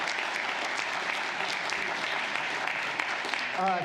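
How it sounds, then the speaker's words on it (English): Steady applause from a crowd fills the whole stretch, dense clapping at even loudness with a brief voice near the end. "You give them all a round of applause."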